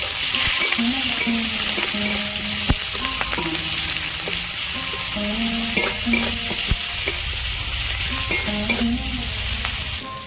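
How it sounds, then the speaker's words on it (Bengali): Chopped onion and green chillies fry in a pan with bay leaf and five-spice tempering, a steady loud sizzle broken by repeated scraping and stirring strokes of a spatula, with no voices. "ফোড়নটা আমি ভালো করে ভেজে নিয়েছি পেঁয়াজ কুচি দেবো সেটা কাঁচা লঙ্কা দেবো"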